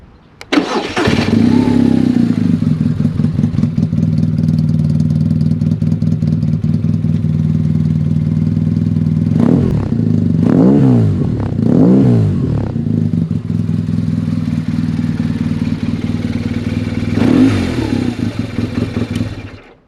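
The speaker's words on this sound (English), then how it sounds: "let me let you hear the sound of this motor. quickly fire up here" A BMW R1200S motorcycle engine cranks and fires up, then idles with a steady rumbling chug, revving briefly a few times before settling back down.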